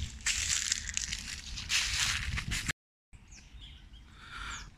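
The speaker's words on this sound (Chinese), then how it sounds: "旁边有好多鸟叫" Many birds chirp and call beside an overgrown, duckweed-covered lake with willows and a leaf-strewn path. Their calls mix with loud crunching, likely steps on dry leaves, broken by a brief silent gap.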